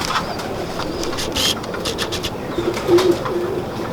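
Soft coos of white-eyed pigeons repeat low and close, with faint chirps above them and steady background noise.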